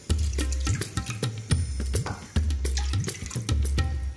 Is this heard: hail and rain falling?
no